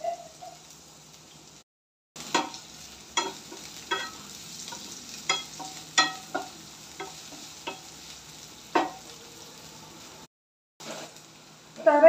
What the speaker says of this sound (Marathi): ते ह्याच्यामध्ये टाकायचे आणि थोडेसे ब्राऊन कलर येईपर्यंत परतून घ्यायचे आपल्याला